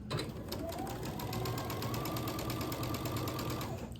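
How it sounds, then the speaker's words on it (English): A sewing machine runs continuously while sewing jelly roll quilt units, giving a steady, fast mechanical whir with a rapid needle rhythm, close and even in loudness for the whole stretch. "line them up and sew them down this side."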